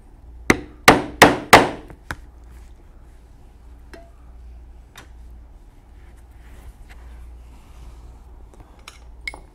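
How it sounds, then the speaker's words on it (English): A hammer strikes a hole punch into leather for a saddlebag project, four sharp, loud metallic knocks in quick succession, then a few quieter taps and small handling noises scattered through near silence. "punch a 3/4 inch hole. And a hole for a rivet."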